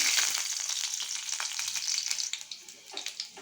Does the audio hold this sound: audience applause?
no